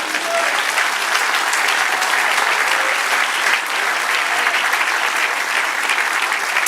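A church congregation bursts into sustained applause for the Lord during a prophetic service, loud dense clapping filling the space evenly from start to finish with no pause.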